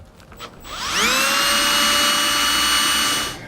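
A small bit in a power drill spins up on a 2015 Smart fortwo, rising to a loud steady high whine that holds for about two seconds before winding down, close and alone.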